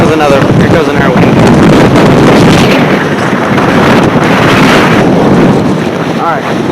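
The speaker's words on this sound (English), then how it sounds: "Here goes another wind." Strong wind roars and buffets loudly and steadily through a freezing-rain blizzard with ice-covered ground, a continuous gusty rush that stays close and heavy the whole time.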